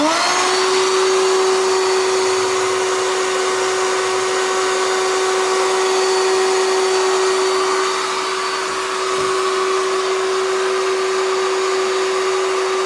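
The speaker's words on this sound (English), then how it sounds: "So let me just fire on the shop vac here." A shop vac powered from a Lion Energy Safari UT1300 lithium battery runs with a loud, steady motor whine that holds constant throughout, with only a brief dip near the end.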